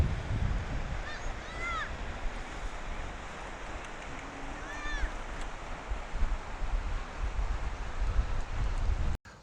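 Steady surf washing onto a beach at Scarborough, Maine, a constant broad rush of waves with wind buffeting the microphone and faint bird calls drifting over it.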